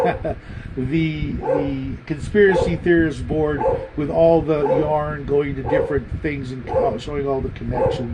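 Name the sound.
dog barking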